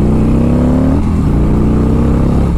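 A 2017 Harley-Davidson Street Glide with a Screaming Eagle Stage 1 upgrade accelerating, a loud, close, continuous engine drone that rises steadily in pitch as the bike pulls harder, with no speech.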